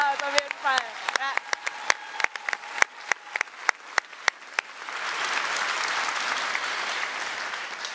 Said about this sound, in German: einen großen Applaus auf jeden Fall